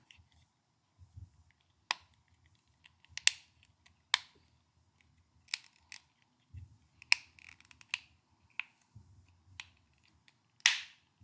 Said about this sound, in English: That final click is literally the best sound.